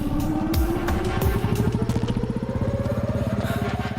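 A motorcycle engine in a Hindi-dubbed South Indian action film revs up and then runs with a steady, loud, pulsing mechanical throb. Its pitch climbs gradually and it sounds close, with no talk over it.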